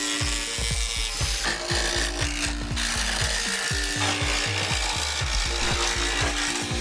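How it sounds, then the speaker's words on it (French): A jigsaw with a fine-toothed blade cuts through wood with rapid rasping strokes, loud and close, running steadily with a rhythmic buzzing chatter throughout. "Donc on va le faire à la scie sauteuse."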